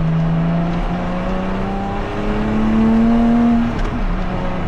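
A Lotus Exige V6 350 engine pulls steadily through the revs, its pitch climbing across two long gear runs with a brief dip between them, loud and close with no talk.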